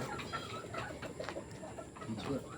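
Chickens at feeding time on a Filipino gamefowl breeding farm, clucking and calling nearby in a steady, overlapping chatter, with a person talking faintly under the birds.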